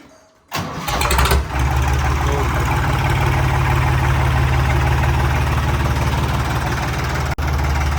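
After a moment of quiet, a Ford 3600 tractor's heavy diesel engine cranks and catches, then settles into a loud, steady, chugging idle close by.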